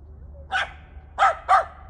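A loose dog barks outdoors on a residential property with three sharp, mid-distance barks, one single followed after a pause by a quick pair, over a low background hum.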